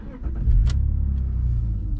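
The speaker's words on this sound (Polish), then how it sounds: "więc czas odpalić silnik" A 2001 BMW 330i E46 straight-six engine cranks and fires up nearby, with a brief starter whine settling into a smooth, low, steady idle.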